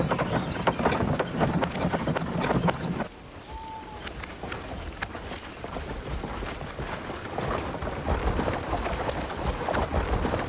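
Tired horses hauling travellers in a Hindi-dubbed Hollywood film clatter along with steady hoofbeats and rolling mechanical rattles, loud at first, then dipping briefly before continuing as a busy, continuous clatter.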